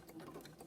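A sewing machine runs a zigzag stitch over fabric-wrapped rope, a soft, quick whirring rattle heard close up in a short continuous burst.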